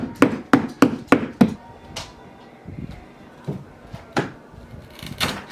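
Wooden trim being pried off a bedroom drywall wall: a burst of five sharp, evenly spaced knocks and cracks, then scattered creaks and thuds, close and loud with no talking.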